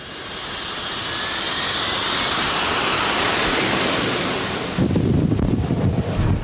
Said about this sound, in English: Britain's latest acquisition, the Sea Harrier.